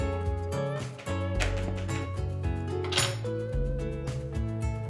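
A fork whisks milk, lemon juice and other wet ingredients for vegan pancakes in a bowl, a quick run of rhythmic clinking and scraping against the sides, close up, with background music playing.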